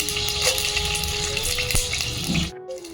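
Mustard seeds, cumin, garlic and red chillies fry in hot oil for a Telugu chana dal gongura tempering, a steady close crackle and sizzle that cuts off abruptly near the end.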